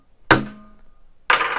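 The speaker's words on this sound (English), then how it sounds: "A little hit with the hammer" A hammer strikes a gooseneck weld clamp to lock it onto a workpiece: two loud, close metallic blows about a second apart, the first ringing briefly before fading.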